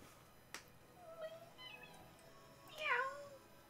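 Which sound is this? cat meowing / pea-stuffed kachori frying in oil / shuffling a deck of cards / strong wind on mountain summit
cat meowing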